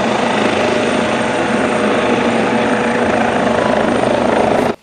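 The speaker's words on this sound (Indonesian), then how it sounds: "Wow, lihat teman, di sini ada helikopter Basarnas." Loud, continuous rotor thump of a Basarnas rescue helicopter in Marvel's Spider-Man 2, close and steady for several seconds before cutting off abruptly, with no talking.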